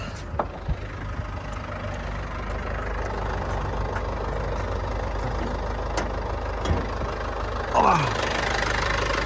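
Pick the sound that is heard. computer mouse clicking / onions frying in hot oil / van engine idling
van engine idling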